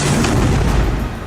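Gunfire from soldiers shooting from the first floor of one building at fighters hidden in another during urban combat in North Gaza, heard as a loud, dense, booming blast that fills the whole short burst, with no talking.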